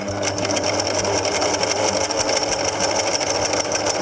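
A sewing machine stitching a buttonhole runs steadily and close by, with a continuous fast mechanical whirr and rapid needle chatter throughout and no pauses.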